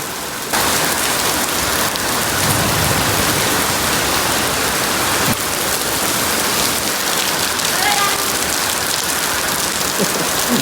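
Heavy first monsoon rain pours steadily in a dense, unbroken hiss, loud and close, with no voices.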